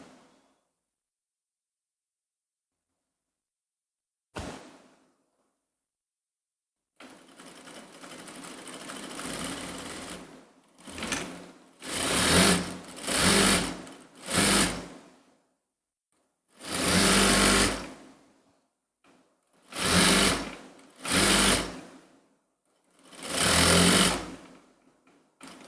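Sewing machine stitching around the edge of a floral A-line dress, loud and close: after a short start-up whir it runs in repeated bursts of a few seconds each, separated by brief stops.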